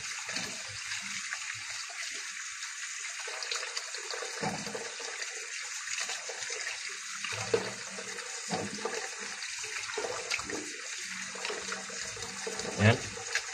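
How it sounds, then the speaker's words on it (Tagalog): Running tap water splashes steadily over white grapes being washed, a continuous close hiss and patter with occasional louder splashes as the fruit is moved under the stream. "Siguro mga 4 na beses hugasan natin para sa running water"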